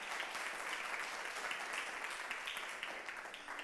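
A church congregation claps in sustained applause during a Sunday service, a dense even patter heard from a distance, fairly faint and gradually tapering at the end.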